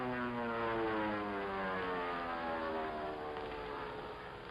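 A small airplane flying low, hedge hopping: a steady droning propeller engine whose pitch slowly falls as it passes, fairly loud and continuous with no other sounds.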